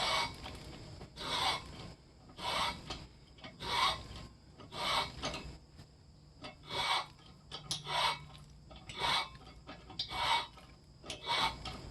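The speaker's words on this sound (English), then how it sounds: "guide the ream straight into the other bushing down below" A hand reamer turning through a spindle bushing on a Massey Ferguson 135 tractor gives a rhythmic metallic rasp, about a dozen close scraping strokes at a steady pace, each rising and falling with short pauses between.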